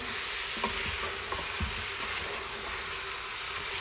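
Meat being stirred in a cooking pan, a constant loud sizzle with a few soft scraping knocks from the spoon early on, no voices.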